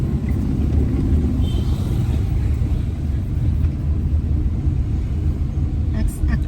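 A car engine rumbles low and steady during a driving lesson in India, with a gentle acceleration under continuous road noise, fairly close inside the cabin.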